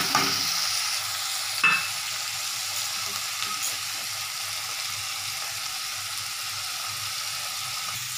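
Spices for ghugni are stirred and fried in a pan, giving a steady sizzle with a short scrape of the spoon near the start, close and even throughout.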